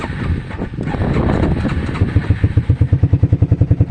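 A Suzuki LTF 250 4WD QuadRunner ATV is electric-started: a close starter whirr and cranking give way to a rhythmic, chugging idle that pulses evenly and loudly.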